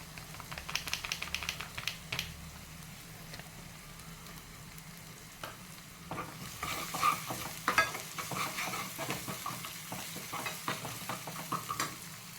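Spiced potato filling for bread pakora being stirred, with masala and chilli mixed into the mashed potato: a steady run of scraping, sticky stirring strokes up close, with a faint sizzle underneath and busier mixing in the second half.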